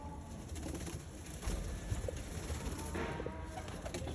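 Pigeons of top Punjabi breeds cooing in a loft, several birds overlapping in soft, low, rolling coos, close and continuous with slight rustling.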